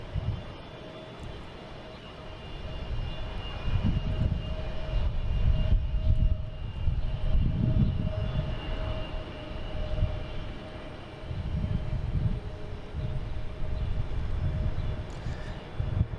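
A Delta Airbus A319 jet from Dallas Fort Worth roars at Boston Logan International Airport, its engine noise swelling and surging in broad waves for several seconds, loud and fairly close, with steady tonal whine over the rumble.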